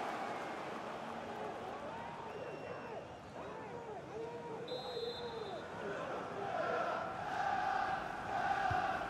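A stadium crowd roars in a FIFA 23 Premier League match between Aston Villa and Newcastle United, a continuous swelling wash of crowd noise with rising chants and a brief whistle.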